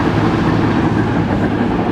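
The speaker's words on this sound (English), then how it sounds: "You can hear that slasher running back there the same" Steady, loud diesel drone of a slasher running behind a CAT 535D skidder, a continuous mechanical rumble with a faint rhythmic clatter and no voices.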